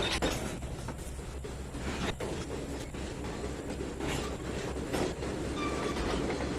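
Train cars back up slowly in the Trainz 2019 railroad simulator, giving a continuous rumbling roll with rhythmic wheel clicks and clanks over rail joints, moderately loud and steady throughout, with no talking.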